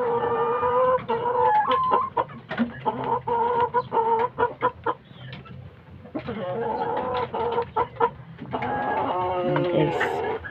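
Several Kanaway gamecock chickens cluck and squawk close by in rapid bursts, with brief pauses between flurries of calls.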